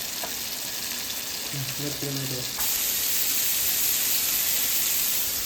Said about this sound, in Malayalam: ചൂടായിരിക്കുന്ന ബട്ടറിലേക്ക് ഇടുക. അത് ചിക്കൻ നന്നായി തിരിച്ചും മറിച്ചും എടുത്ത് വറുത്ത് കോരിയെടുക്കുക.